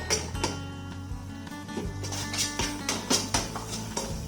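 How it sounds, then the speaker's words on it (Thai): Garlic, pounded coriander root and pepper stirred in a pot rather than a wok for a Thai mixed-vegetable soup, giving repeated clinks and scrapes of a utensil against metal with a steady background hum, fairly close. "อันนี้ผมผัดในหม้อเลยนะผมไม่ได้ผัดในกระทะนะครับ"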